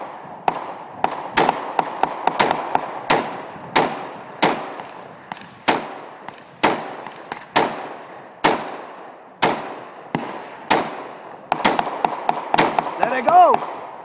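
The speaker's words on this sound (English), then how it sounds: "My Uncle Carlo shooting the AK with the AK." Shots from an AK rifle ring out outdoors as a long series of sharp, loud cracks, mostly single shots at uneven intervals with a few quick doubles, each one followed by a short echoing decay.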